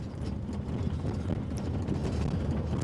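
Racing camels run during a camel festival race in Bayankhongor, Mongolia, with their feet making a dense, continuous rumble of muffled thuds. Wind buffets the microphone throughout.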